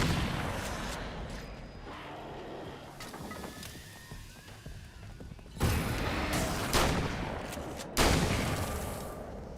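Cannons in the video game Alan Wake's American Nightmare fire grenades in three sharp, loud booming blasts a second or so apart, over a quieter, rumbling game background.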